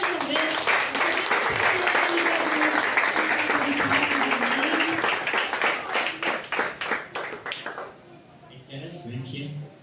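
A church congregation claps together during a worship service, a dense, sustained burst of hand claps with voices mixed in, thinning into scattered claps before fading out near the end.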